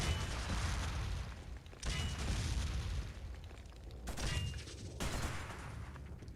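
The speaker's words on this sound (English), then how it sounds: "Grenade launchers in this game were immensely overpowered and broken. They sounded like awesome as well." In Fallout 76, a grenade launcher fires several times in a row. Each shot is a loud, booming blast that trails into a rumbling tail.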